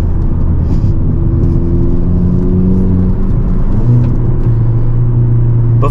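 A 2022 Hyundai Elantra N driving, heard from inside as a loud, steady engine drone with road rumble, the pitch holding and then shifting slightly as it pulls along.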